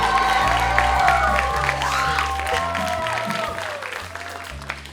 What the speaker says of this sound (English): Round of applause for consent.